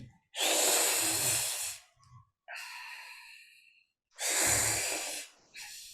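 Close breathing in with the tongue pressed to the roof of the mouth during a seated cooling breath exercise: two loud, hissing inhalations separated by softer airy breaths, alone without talk.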